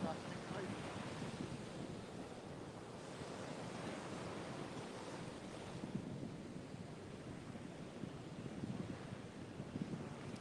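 Ocean surf breaks on a beach during surf fishing, a continuous wash of rolling waves with gusty wind buffeting the microphone, steady and fairly close, no clear talking.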